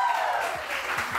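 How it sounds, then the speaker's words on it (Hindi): A studio audience on a morning television show applauds after a sung performance, a brief diffuse patter of clapping that runs under voices. "अपने लिए भी तालियां।"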